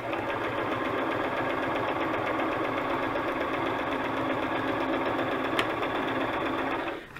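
A sewing machine stitching paper runs continuously at a fast, even pace, its motor humming and needle chattering steadily before stopping at the end.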